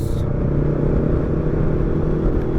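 Yamaha Xmax scooter engine idling steadily and close by, a continuous low rumble with a faint hum over it that stays even throughout, with no talking.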